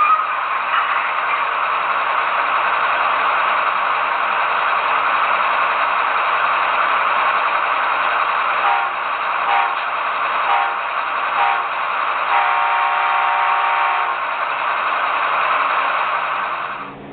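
An Athearn Genesis Union Pacific ES44AC model locomotive pulls a short train along the track, its sound unit giving a steady droning diesel engine rumble with a constant hum throughout.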